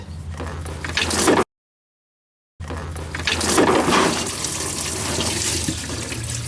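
Engine oil gushes and splashes from a Ford F-150 during an oil change, a loud steady pouring rush that cuts out briefly and then resumes with more spattering.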